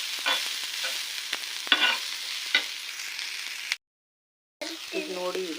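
Popcorn frying and being stirred on a hot tawa, giving a steady soft sizzle with scraping stir strokes, a short silent gap, then a voice speaking over the cooking.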